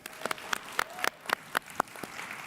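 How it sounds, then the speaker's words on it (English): A Hall of Fame induction audience applauds for Bob Reed, a run of sharp, distinct claps at a steady, moderately spaced pace, fairly close, with no voices over them. "Let's give a round of applause for Bob Reed."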